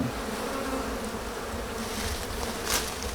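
Wild bees buzzing in a continuous dense drone while people search for hives outdoors, steady and moderately loud with a brief louder swell near the end.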